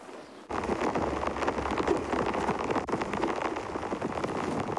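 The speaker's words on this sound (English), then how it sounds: "So the rain has stepped up quite a bit and there's a lot more coming" Heavy rain pours steadily on a safari game drive, a dense, loud hiss that begins abruptly after a brief quieter moment and continues without pause, with no talking.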